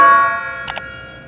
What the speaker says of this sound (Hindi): ये है वो घंटी जिसकी आवाज़ आपको सुनाई देती है